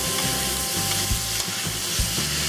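Beef for chow fun stir-frying in a pan with a little dark soy, a steady close sizzle with rhythmic scrapes and tosses of the spatula, no voices.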